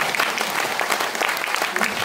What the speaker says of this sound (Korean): 박수 한번 부탁드려요